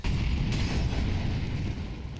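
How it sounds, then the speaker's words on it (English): Grenade blasts in Counter-Strike make a loud, continuous low rumble that fills the moment without clear gaps. "those nades are brutal"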